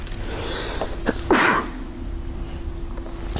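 A single sharp sneeze bursts out once amid quiet room tone, followed by a short tail before the background settles again.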